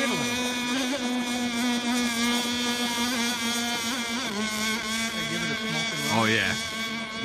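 A motorboat engine drones at a steady idle with a constant buzzing hum, loud and close, while a voice briefly rises over it near the end.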